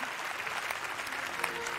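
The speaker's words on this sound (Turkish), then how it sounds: "En iyi dizi çifti Serenay Sarıkaya, Kıvanç Tatlıtuğ, Nebahat Çevre'ye de koskocaman alkışlar." A large audience applauds steadily at a televised Turkish TV awards ceremony for the best series couple, a dense continuous wash of clapping throughout.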